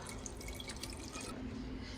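Water runs from a tap into drink bottles, a close steady trickle with dripping splashes, quiet and alone, its tone shifting slightly as the bottle fills.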